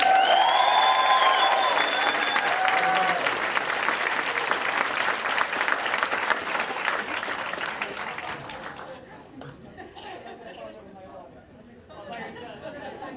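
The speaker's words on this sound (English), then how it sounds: "can we give all the business and accounting graduates the biggest cheer today so far, please?" Audience applause and cheering for business and accounting graduates at an LIT conferring ceremony in Thurles, loud and sustained for about nine seconds before thinning into scattered claps and murmuring.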